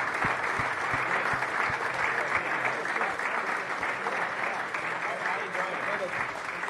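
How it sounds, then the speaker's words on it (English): An audience claps for a soccer innovation panel, giving steady, dense applause that lasts throughout at moderate loudness, with a few louder claps nearby and a faint voice mixed in. "big hand of applause to our panel"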